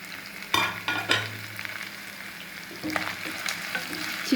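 Chicken stir-fried in plenty of oil in a pan for a Tamil street-food katori chaat, a steady close sizzle with a few louder stirring scrapes and bursts, no talking.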